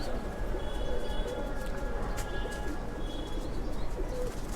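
Soft pigeons cooing steadily over a low background hum, fairly faint and continuous, with occasional chirps.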